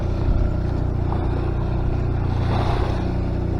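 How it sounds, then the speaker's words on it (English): Sailboat motoring under engine with the mainsail up on a windless sea off Majorca, a steady low droning hum with a constant rumble, close and fairly loud throughout, no talking. "We have the motor on"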